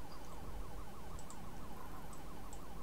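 A police car siren in the video game GTA V wails steadily in a fast repeating cycle, faint and distant, with a few small high blips over it.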